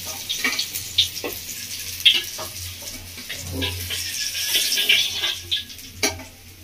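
Katla fish fries in oil in a village-style kitchen, a continuous close sizzle broken by several sharp crackles and spatters, with no talking.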